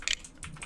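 Quick bursts of computer keyboard typing, a cluster of close, crisp keystrokes followed by a few more scattered taps, short and fairly quiet.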